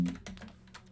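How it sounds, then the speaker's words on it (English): Quick keystrokes clatter on a computer keyboard, close and fairly soft, in a brief run of clicks with no talking. "And then I'll type in deny"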